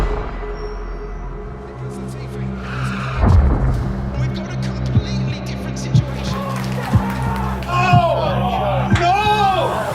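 A Formula 1 race car crashes on track amid engine roar, with a heavy impact thud and then scraping and tire squeals, all under excited commentary talk.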